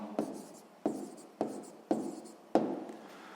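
A pen writes an answer on paper in five short scratchy strokes, each starting sharply and fading, close and quiet with no talk.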